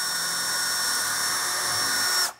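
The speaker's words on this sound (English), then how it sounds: "Take our 3/16 drill bit" A power drill with a 3/16 drill bit bores a hole, whining at a steady high pitch for about two seconds before cutting off abruptly.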